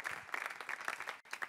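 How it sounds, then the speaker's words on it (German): Applause fills the Austrian parliament chamber on Vienna's Ringstrasse after President Zelensky's live video address from Kyiv, a steady, moderately distant patter of many hands that breaks off briefly before resuming. "Mit Applaus für Zelensky geht die Live-Schaltung aus Kiew in das Parlament an der Wiener Ringstraße zu Ende."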